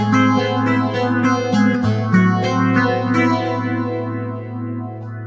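A Line 6 Dream Rig metal guitar preset called Creepy 12 plays loud, sustained distorted chords with heavy effects and reverb tails, strummed in a steady rhythm and fading out near the end.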